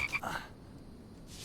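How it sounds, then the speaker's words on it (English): Frogs in The Infected survival game croak in two brief bursts at the start, followed by quieter outdoor ambience and a faint rustle. "More frogs."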